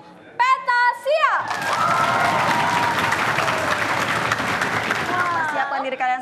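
An audience at a school award ceremony, where a first-place trophy goes to SMA Negeri 1 Petasia of Central Sulawesi, breaks into sustained applause and cheering for several seconds, with a loud voice speaking just before and after.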